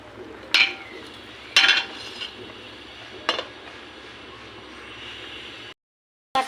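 A metal spoon stirs raw jackfruit curry in a cooking pot, making three sharp clinks against the side spaced over a few seconds, over a low steady hiss, before a lid is set down at the end.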